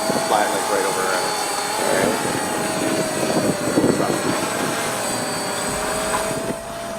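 A camera drone flies overhead with a steady whine and tonal buzz of small rotors, moderately loud, while people talk nearby against the constant hum.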